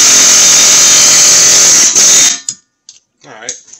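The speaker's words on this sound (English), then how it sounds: "we're going to put the air hammer on here in a minute" Loud, steady pneumatic hammering from an air hammer working on the axle of a 2011 Ford Fusion during a wheel bearing job, running continuously for about two seconds before cutting off, followed by brief quiet voices.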